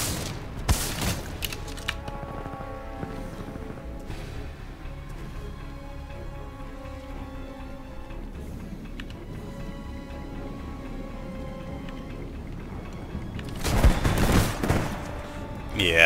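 Gunfire in the Titanfall-style Pilot v Pilot game, a burst of close shots at the start, sparse distant pops through the middle, then another heavy loud burst near the end.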